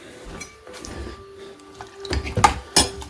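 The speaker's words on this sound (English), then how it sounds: "We're going to give that a little bit of a stir." A spoon stirring cider vinegar in a heavy container: a few soft knocks and scrapes that build into louder clinks toward the end, close by, with no talking.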